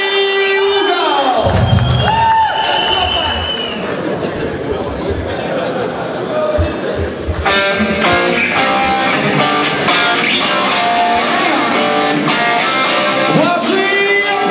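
Arena crowd at a heavyweight fight night cheering and clapping as a Dutch fighter enters from the blue corner, a loud continuous roar with music-like tones and an announcer's voice over it.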